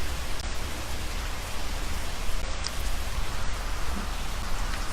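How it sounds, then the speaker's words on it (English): Steady rain falling outdoors during a meditation, a dense continuous hiss of drops with no pauses, fairly loud and close, with no voices. "Even getting rained on during a meditation on a Facebook Live."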